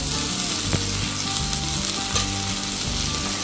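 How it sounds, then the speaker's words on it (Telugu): Chopped coriander being stirred into a frying chana dal chutney mixture in a pan, with a steady loud sizzle throughout and soft, rhythmic scraping strokes of the spoon. "కొత్తిమీర కట్ట సగం వేస్తాను వేసేసి జస్ట్ ఒక్కసారి ఇలా మొత్తం కలుపుకొని"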